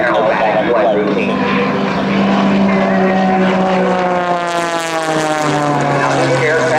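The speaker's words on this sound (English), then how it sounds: "Now this aircraft is an MXS aircraft." An MXS aerobatic aircraft flies at an air show, its loud, steady propeller-engine drone filling the whole stretch and bending slowly in pitch as it maneuvers.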